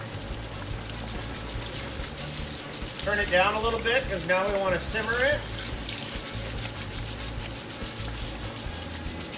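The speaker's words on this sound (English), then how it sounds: "I'll take the combi hose, add a little bit of water" Steady running water pours continuously from a combi hose into a pot, a broad hiss that lasts throughout while someone talks briefly in the middle.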